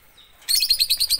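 After a faint thin peep, young bird chicks break into a loud, close burst of rapid high chirps in a quick regular rhythm, about six calls in a row.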